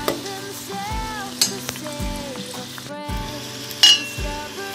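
Amla simmering in homemade hair oil in a pan, giving a steady low bubbling fry with a few soft stirring scrapes and clinks, close and fairly quiet, with no talking.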